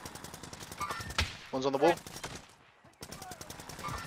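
Bursts of video game gunfire and sniper shots crack under excited talk between players, with a clear rapid burst in the middle.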